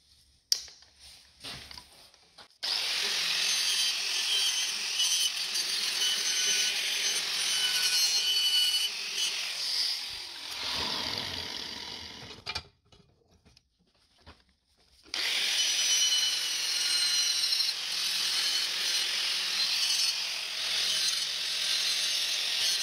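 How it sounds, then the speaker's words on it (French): Wire brush scrubbing the exhaust pipe of a Case IH CS 94 tractor, a loud continuous close rasping that runs for several seconds, pauses briefly, then resumes just as harsh. "je vais y aller à la brosse métallique"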